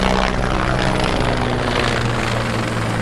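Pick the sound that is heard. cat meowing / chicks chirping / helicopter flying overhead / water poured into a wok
helicopter flying overhead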